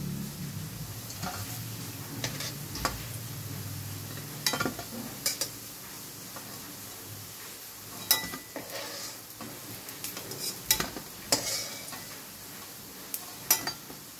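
Soft, steady sizzle of balushahi sweets frying in hot oil, broken by scattered clicks and knocks as the pieces are lifted out one by one, fairly quiet and close.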